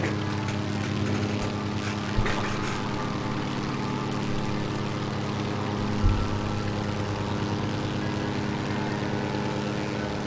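An An-2 propeller plane engine drones steadily in Microsoft Flight Simulator, a constant buzzing hum with a throbbing low tone, unbroken throughout with a couple of faint thumps.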